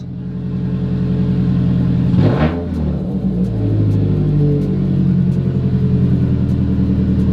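A car engine runs steadily right after its first start with a new turbocharger, a loud continuous rumble with a brief rev surge partway through, no talking over it.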